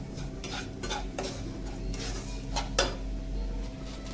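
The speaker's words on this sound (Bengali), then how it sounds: "তো আমি এখানে সুজিটা এটার লগে ভাজতে লাগবো ভালো করে" Semolina fries and is stirred in a pan for upma, with a spoon scraping and clinking against the metal in uneven strokes over a low, steady sizzle.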